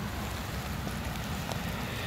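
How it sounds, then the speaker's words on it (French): Heavy rain falls during a short carp-fishing session on the Saône river, a steady, dense hiss with no break and no talking. "Ouh, ça pleut sévère."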